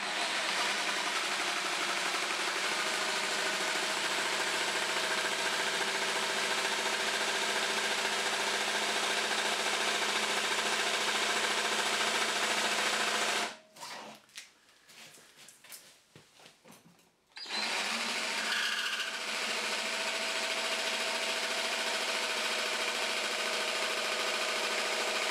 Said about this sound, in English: you need to pull the machine backwards and then start the machine going before you try cutting the acrylic again